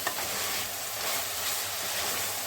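Brinjal pieces with onion and garlic paste frying in oil for vangibhath, giving a steady, dense sizzle that stays even and close throughout, with no voices.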